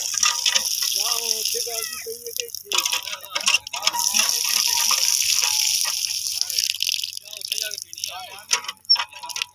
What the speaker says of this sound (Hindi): मैं पानी पी लेता हूँ।